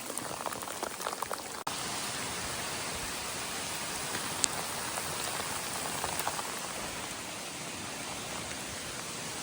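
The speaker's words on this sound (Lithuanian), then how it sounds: "Vau, kaip lijo." Heavy rain pours steadily onto surfaces during a long-distance bicycle ride in northern Sweden, a dense, unbroken roar of drops that holds loud throughout, with a brief dip near the start.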